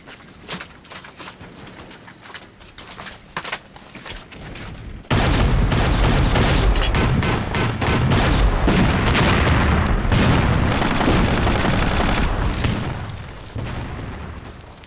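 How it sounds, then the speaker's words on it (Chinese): Heavy enemy gunfire and machine guns in an anti-Japanese war drama: scattered distant shots give way to a sudden loud, dense barrage of bursts and booms that rolls on, then eases slightly. "敌人的火力非常的凶猛"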